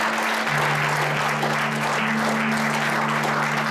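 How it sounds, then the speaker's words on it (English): A church congregation applauds steadily, a dense wash of clapping that stays loud and even throughout, with a faint low hum underneath. "giving Him another big hand clap this morning"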